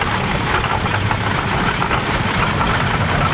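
An antique engine running at a steam expo, a loud, steady rumble with a close, even churning and knocking texture that holds without pause.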